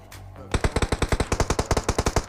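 Rapid automatic gunfire in a shooter video game, a burst of about eighteen evenly spaced, loud, close shots after a brief quiet lead-in, with no talking.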